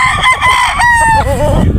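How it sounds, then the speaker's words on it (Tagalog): A pure Boston Roundhead broadstag rooster on a Batangas game farm crows loudly and close, one drawn-out call with rising and falling pitch that breaks off near the end. "yan po yung ating samples ng ating broadstag pure Boston Roundhead"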